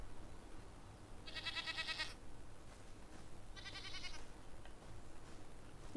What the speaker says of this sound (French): Voilà une chèvre.